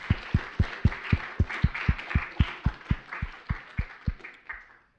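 Applause from the audience at the MIT Science Bowl high school invitational: steady, evenly spaced claps at a moderate, fairly quiet level that taper off at the end.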